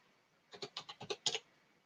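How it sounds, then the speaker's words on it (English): A quick run of about eight keystrokes clatters on a computer keyboard, close and fairly faint, with quiet before and after. "Oops, did I type that right?"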